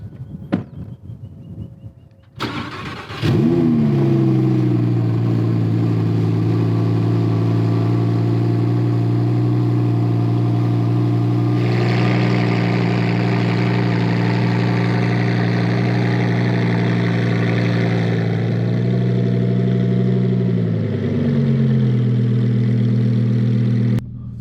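Lamborghini Huracan V10 from 2021 with an FI exhaust fires up with a sharp bark after a quiet start, then settles into a loud, steady, deep idle with a slight rev bump midway and a dip near the end.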